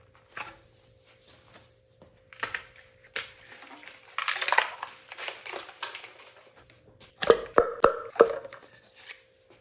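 A plastic engine cover on a BMW N20 is unclipped and popped off, giving several sharp plastic clicks and snaps with quieter handling rustles in between, close and alone.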